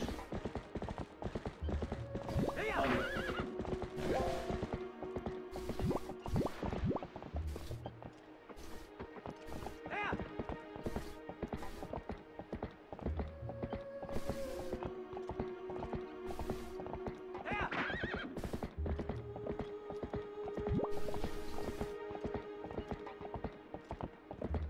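A horse in The Legend of Zelda video game clip-clops with repeated hoofbeats and gives several loud neighs and whinnies, the sounds recurring in rhythmic bursts, with no talk over them.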